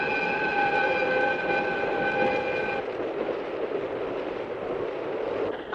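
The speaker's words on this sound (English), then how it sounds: "Suguru, it's the express." An express train passes close by, its steady horn sounding over a loud rumbling roar for the first few seconds, then the rolling rush of the cars continues alone.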